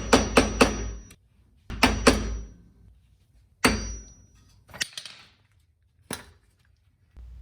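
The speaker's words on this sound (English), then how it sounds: "you're going to need a flathead screwdriver and a hammer to work this cap off" Sharp metallic hammer blows on a flathead screwdriver prying the hub cap off a 1994-2004 Ford Mustang front wheel hub, struck in quick clusters of two or three with pauses between, close and ringing.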